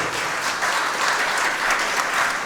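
An audience at a felicitation ceremony claps steadily for a few seconds in a dense, even patter, moderately loud, with no voices over it.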